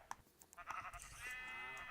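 A sheep bleats faintly in the video game Minecraft, a short wavering call amid soft clicks and game sounds.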